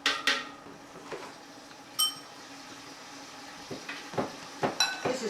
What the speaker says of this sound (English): Just stir it a little bit. Now it's boiling, so I'm adding.